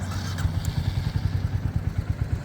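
A lightly used 2024 Royal Enfield Hunter 350 single-cylinder motorcycle fires up and settles into a close, loud, even thumping idle.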